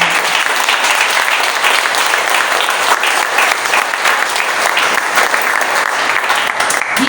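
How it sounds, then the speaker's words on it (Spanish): A church congregation claps loudly and steadily throughout, a dense, continuous wash of applause filling the room. "¿Cuántos le pueden dar un fuerte aplauso al Señor?"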